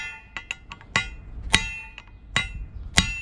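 Sharp metallic hammer blows ring out under the cab of a DAF truck as a part is knocked loose, about eight irregular strikes of varying force, close and alone without talk.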